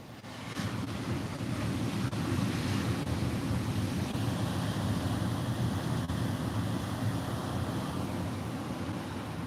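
Ocean surf at Malibu beach, a steady broad rumble of breaking waves with wind noise on the microphone, loud and continuous throughout with no speech.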